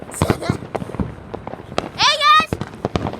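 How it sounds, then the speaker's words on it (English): Fireworks go off outdoors, with a brief whistling, crackling burst near the end amid excited voices talking and exclaiming over the scene. "You can see there's the fireworks"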